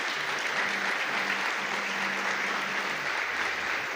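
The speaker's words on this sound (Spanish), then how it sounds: "¿Qué tal si le damos un aplauso a nuestro Señor por eso?" A church congregation claps in steady, continuous applause during a Spanish-language service, even and fairly full for the whole stretch with no speech over it.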